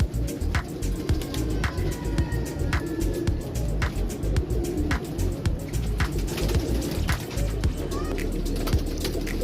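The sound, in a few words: golden pigeons cooing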